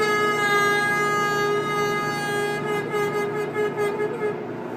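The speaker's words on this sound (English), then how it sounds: "So that's bends, and all your draw bends are from 1 to 6." A harmonica draw bend: one steady, reedy held note played close and alone, its pitch wavering slightly as it is bent, with a bright, buzzy tone throughout.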